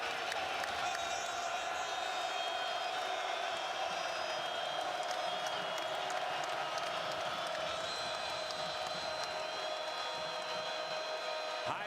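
Basketball arena crowd on its feet at a Clemson vs South Carolina men's college game, a steady roar of cheering, whoops and scattered applause, with a commentator's voice faintly underneath.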